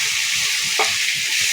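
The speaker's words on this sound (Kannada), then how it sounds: "ಅರಿಶಿನ ಹಾಕ್ಮೇಲೆ ಚೆನ್ನಾಗಿ ಫ್ರೈ ಮಾಡಬೇಕು." Lemon rice seasoning with turmeric frying in a pan, a steady broad sizzle throughout with one brief scrape of stirring near the middle, close and fairly loud with no voices.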